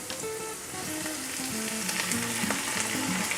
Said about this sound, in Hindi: चॉप्ड गार्लिक और ग्रीन चिली डाल देंगे। साथ ही हम इसमें स्लाइस किए हुए टोमेटो डाल देते हैं।